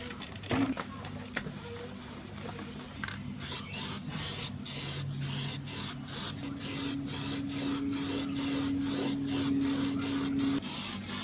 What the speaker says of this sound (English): I just want to get some primer on that to stop it from rusting